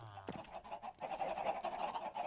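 Chickens in Minecraft cluck in a small run of honking squawks, faint and close, repeating steadily for a couple of seconds with no voices.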